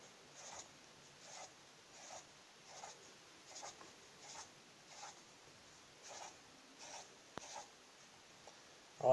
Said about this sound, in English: So I'm going to draw in the circles.